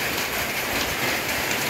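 Wind-driven rain beating down in a steady, dense wash during a heavy storm with strong gusts in a rural yard where goats are kept, loud and continuous with no voices.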